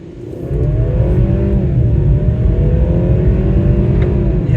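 A 2022 Mercedes C300 W206 4Motion in sport mode pulls hard from first gear, its engine note rising steadily and loud from close inside the cabin, with no talk over it.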